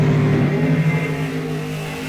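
Drag racing Camaros, including a 68 Camaro, launch from the starting line at an ET series event, a loud, close engine roar that holds steady and slowly fades over two seconds.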